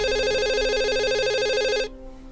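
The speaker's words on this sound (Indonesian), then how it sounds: "tiba-tiba telepon berbunyi." A telephone rings with a steady electronic warbling tone that cuts off abruptly after about two seconds, clear and alone with no voices.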